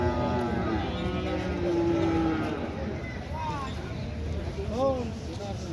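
Cattle low at a busy livestock market, with a long moo early on and shorter calls later, all set against a constant crowd of people talking.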